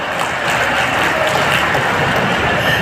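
Dense crowd applause at Chief Minister Mohan Yadav's rally in Orchha, Niwari district; loud, steady clapping fills the whole moment with no voices over it.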